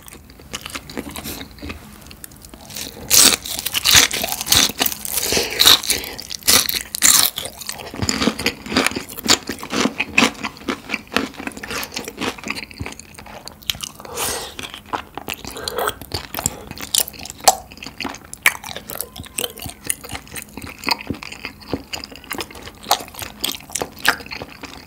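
Long Korean rice cake tteokbokki being chewed up close, wet sticky biting and mastication sounds repeating steadily over about twenty-five seconds, with squid tempura and pork cutlet on the side; no talking.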